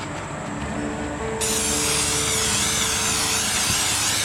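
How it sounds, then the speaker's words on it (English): Release agent sprays into a plastic skull mold with a loud, close hiss without a break, growing stronger partway through and continuing to the end. "So I just spray it in there real good."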